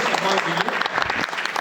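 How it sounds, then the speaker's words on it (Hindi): Dense, loud applause from the audience at a mushaira, a hall of hands clapping steadily for the whole brief moment, with voices faintly mixed in. "जोरदार तालियों से आप मलिका दुबे का इसके इस्तेमाल कीजिए"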